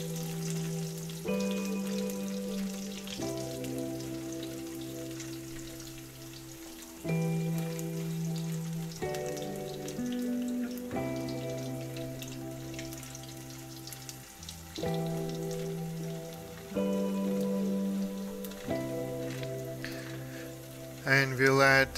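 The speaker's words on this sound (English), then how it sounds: "We shall saute it well till the garlic is cooked." Garlic sautés in a pan for a bean sprout and tofu stir fry, a soft, continuous sizzle like light rain that runs under steady background music throughout.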